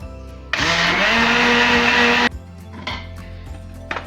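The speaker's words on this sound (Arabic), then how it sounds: "وباش نضربهم ضربتين ولا 3 في بعضهم كما نفس الميثود نتاع الكريب حتى لين يتخلطوا ويولوا خليط مع بعضهم" An electric blender whirs loudly for under two seconds while beating brick pastry batter of eggs and oil, with a sharp start and stop, followed by quieter clatter and knocks.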